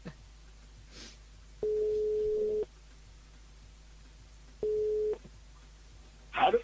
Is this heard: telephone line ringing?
yes